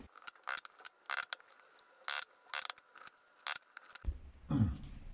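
Scissors snip back a leather shoe lining while lasting it to the insole in a series of close, crisp cuts, followed by a brief handling rustle and thump at the end.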